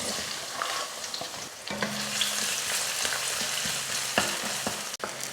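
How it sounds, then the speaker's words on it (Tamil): Onion and crushed garlic fry in hot oil, a continuous crackling sizzle punctuated by stirring scrapes and a few utensil clicks against the pan. "வெங்காயம் வெள்ளை பூண்டு பார்த்திங்கன்னா நல்லா வதங்கிருச்சு"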